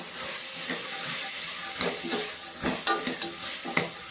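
Coconut sambar masala sizzles and fries in a pan while a spoon stirs it, a soft continuous hiss broken by close scraping clicks and taps at an irregular pace, with no voices.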